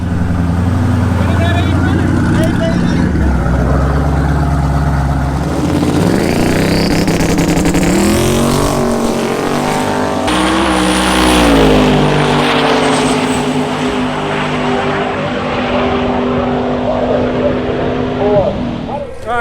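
Twin-turbo Camaro with full interior making its fastest drag pass at LS Fest 2019, a loud engine roar climbing in pitch through shifts, then fading into a long receding whine as crowd and voices mix in.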